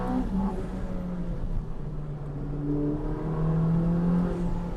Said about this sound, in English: Push hard and you can hear the turbos.